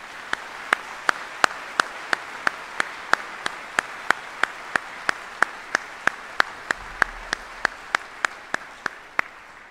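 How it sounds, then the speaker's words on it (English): Sharp, evenly spaced claps ring out at an Army retirement ceremony honoring military families, a steady rhythm of single loud hand claps about every third of a second, rather sparse and close over a quiet room. "please join me in a round of applause for all of our families here today"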